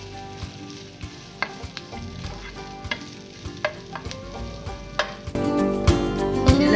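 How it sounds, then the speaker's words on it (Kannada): Capsicum sizzles and fries in a pan for a paneer lemon pepper fry, a steady close crackle broken by sharp clicks of a spatula stirring, growing louder toward the end, with no talk. "ಕ್ಯಾಪ್ಸಿಕಮ್, ಇದೆಲ್ಲ ಚೆನ್ನಾಗಿ ಫ್ರೈ ಆಗುತ್ತೆ."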